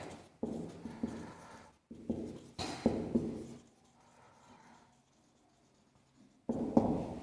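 Pen or pencil scratching on paper while an answer is written by hand during a class 8 maths lesson; soft, close strokes come in short bursts separated by pauses.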